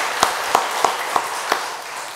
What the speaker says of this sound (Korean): 하나님 앞에 영광의 박수 돌려드리겠습니다